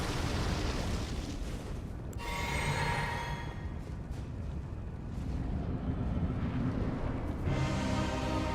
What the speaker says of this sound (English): I need to get better at reading the big ground explosions